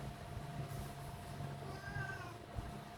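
An unwell cat meows faintly indoors, a few drawn-out calls rising over a low, steady hum of background noise.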